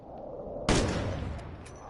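Gunfire in Call of Duty: Warzone: a loud shot or burst breaks in after a quiet stretch and rings out as it decays over a low background rumble, with some faint further shots after it.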